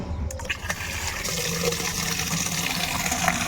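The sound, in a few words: water filling from tap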